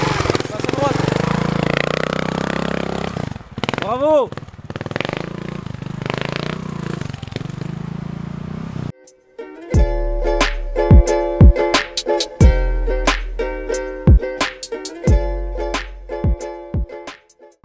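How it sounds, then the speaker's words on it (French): A trial motorcycle ridden on a course: after some talk, the engine snaps through short sharp revs and bursts with clattering mechanical noise, close and loud, and a voice calls out briefly. "Moto très joueuse, c'est impressionnant, c'est vraiment un vélo en fait."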